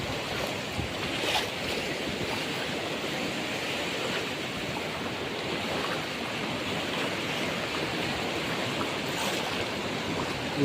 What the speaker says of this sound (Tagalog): Lakas naman ng agos.